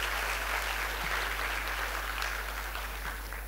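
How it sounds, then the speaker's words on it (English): At a storytelling conference, an audience gives a round of applause for a participant named Erin. The even, continuous clapping is moderately distant and sits over a low electrical hum. "a round of applause for Erin"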